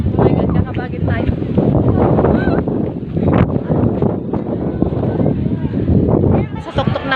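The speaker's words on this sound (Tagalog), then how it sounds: "Ah, lakas ng hangin." Strong gusty wind buffets the microphone at the top of People's Park in Tagaytay on a foggy, damp day, rumbling continuously under close, animated talk.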